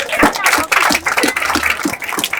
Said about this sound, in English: Can we clap for the Ministry of Education